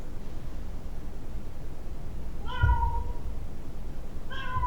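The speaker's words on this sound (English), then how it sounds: "My cat is complaining that we are not giving her enough attention." A pet cat meows twice, a short, clear cry each time, set apart by a few seconds against a steady hiss of background noise.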